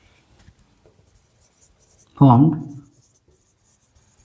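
Marker or chalk writing on a classroom board during a Class 10 science lesson on reflection of light: faint, scattered scratchy strokes, with a teacher briefly speaking midway.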